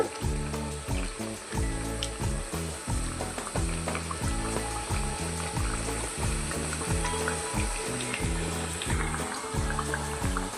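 Sesame ariselu fry in hot oil with a constant close-up sizzle and bubbling crackle as the pieces puff up, with no voices.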